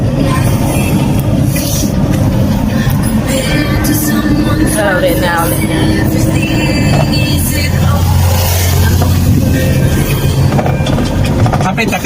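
A Bongo Raptor vehicle's engine runs steadily with a low, continuous hum beneath a person talking throughout.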